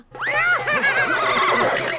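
A horse neighs loudly and close up, one long whinny with rising and falling tones lasting about two seconds, with no talk over it.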